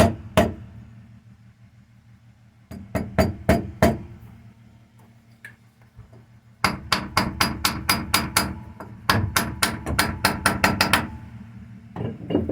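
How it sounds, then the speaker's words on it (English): Loud, sharp hammer blows in quick bursts in a woodturning shop, with short pauses between groups of strikes and a low hum underneath. "Sorry about the hammering noise, but it's"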